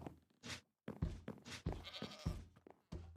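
Several short goat bleats in Minecraft come in quick bursts with brief gaps between them, fairly close and moderately loud, with no talking.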